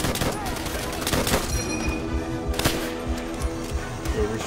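Gunfire in Call of Duty: World at War, bursts of rifle and machine-gun shots aimed at the player, repeated sharp cracks over a busy battle bed with chatter.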